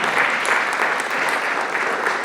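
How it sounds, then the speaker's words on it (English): An audience at a community center open house and oath of office ceremony breaks into steady, dense clapping that holds at an even level for a couple of seconds, with no voices above it. "Yes, you can clap on that."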